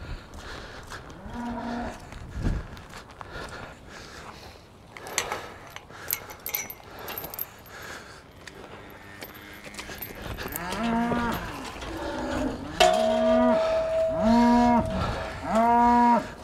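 Cattle moo repeatedly inside a shed, several drawn-out calls from different animals overlapping, growing louder and more frequent toward the end, with faint clatter in between.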